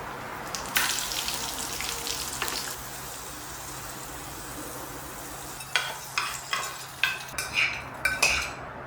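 Mustard seeds, split cashews and dal fry in coconut oil with a steady close sizzle. Near the end, a metal spoon stirs and scrapes the pan in several distinct clinks.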